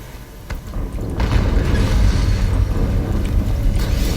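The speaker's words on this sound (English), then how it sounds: "Another explosion." A loud explosion rumbles in a deep, sustained roar that swells after a second and keeps rolling without fading, with no voices over it.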